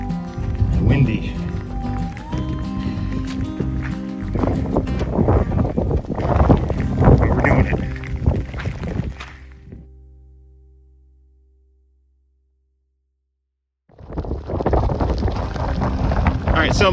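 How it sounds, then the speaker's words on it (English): Steady wind roars and buffets the microphone, with a short lull of silence near the end before the gusting rushes back in. "It is cold, wet, and windy."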